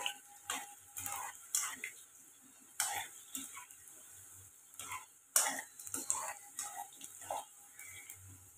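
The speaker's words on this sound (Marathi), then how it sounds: "ही 2 मिनिटं फ्राय करून घ्यायची तेलामध्ये।" Okra frying in hot oil over a high flame gives a soft, steady sizzle with intermittent clicks and stirring taps, faint and close, with no speech.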